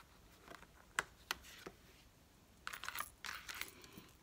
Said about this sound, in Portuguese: Vou pegar três cartas.